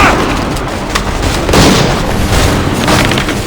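A musket volley roars in an Assassin's Creed 3 battle scene, loud and dense booming gunfire layered continuously with no pause.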